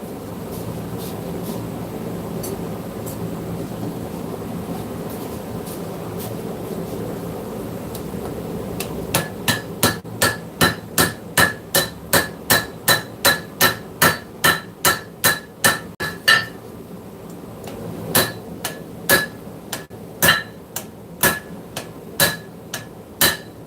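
A hammer rings on hot metal over an anvil at a blacksmith's forge, starting after a quiet stretch with a steady run of sharp, evenly spaced strikes, then slowing to spaced blows near the end.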